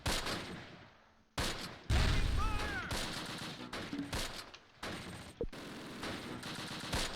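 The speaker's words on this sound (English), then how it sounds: "Mortar's going out." Mortar fire in the war game Close Combat, set in fog, sounds as several sharp booming bursts and rattling gunfire hits spaced across the scene, loud and close with brief quiet gaps between volleys.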